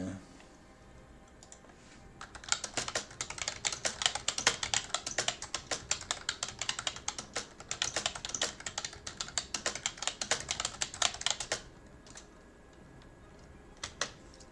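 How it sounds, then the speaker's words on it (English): Rapid clattering keystrokes on a computer keyboard come in dense bursts for about ten seconds, then thin out to a few scattered taps near the end, close and fairly loud with no speech. "Sorry, gotta stop typing"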